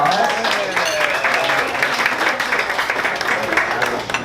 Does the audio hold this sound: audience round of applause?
yes